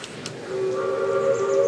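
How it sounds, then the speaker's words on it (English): A Heisler steam locomotive's whistle sounds on the Roaring Camp & Big Trees narrow gauge railroad near Grizzly Flats, a sustained, tonal blast rising after a brief hiss and held steadily at moderate distance. "So you can hear the whistle in the background."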